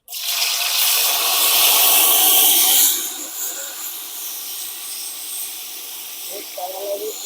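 Garlic paste dropped into very hot oil for chicken khima bursts into a loud, close hiss that fades after about three seconds into a softer crackling simmer, with voices faintly in the background.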